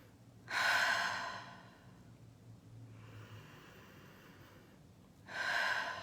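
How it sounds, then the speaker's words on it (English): Two slow, deep breaths near the mic, separated by a quiet pause, as part of a calm early-morning guided meditation setting. "So just some nice deep breaths right here."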